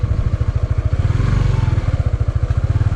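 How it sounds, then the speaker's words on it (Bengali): A motorbike rides along a rain-soaked, muddy rural border road in Kalmakanda, Netrokona, its engine beating in a fast, steady, close putter throughout. "রাস্তাটা এতটা কাদা হয়ে গেছে যে বাইক নিয়ে যাওয়া খুব কষ্ট হয়ে যাচ্ছে।"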